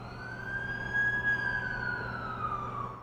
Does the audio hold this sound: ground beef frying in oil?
no